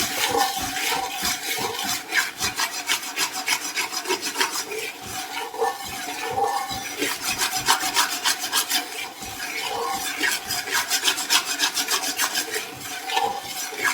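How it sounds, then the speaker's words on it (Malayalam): A ladle scraping and stirring semiya rava upma in a pan as the water cooks off, a continuous close rasping rub with a steady rhythmic back-and-forth and no voices. "ഇതിലെ മുഴുവൻ വെള്ളവും വറ്റും വിധം ഇത് നല്ലപോലെ ഇളക്കിക്കൊണ്ടേയിരിക്കുക"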